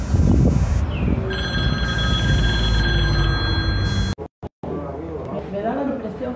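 A phone rings with an incoming call: a loud, repeating electronic ringtone tone with people talking over it, then it cuts off and voices continue.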